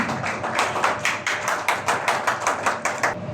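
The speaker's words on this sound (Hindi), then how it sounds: "जोरदार तालियों के साथ स्वागत कीजिए" An audience at a student award ceremony claps to welcome a guest, a steady, evenly pulsing round of applause heard from close by.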